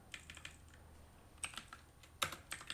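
Fingers type on a computer keyboard during a programming lesson, producing light, irregular clusters of key clicks at close range, with no talking.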